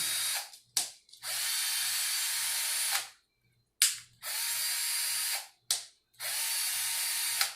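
A Milwaukee M12 2406-22 cordless screwdriver runs on its highest gear in three long, steady bursts of about two seconds each, with short clicks and pauses between them, loud and close with no talking.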